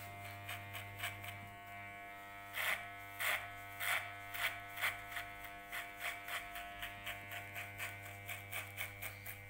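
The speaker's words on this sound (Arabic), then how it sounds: "دائما يجب تمرير الماكينة عدة مرات لكي نقوم بقص الشعر بشكل جيد" Electric hair clippers fitted with a number one comb buzz steadily while cutting a man's hair during a fade haircut, the motor tone pulsing in a quick regular rhythm as the blade passes repeatedly through the hair, close and clear with no talking.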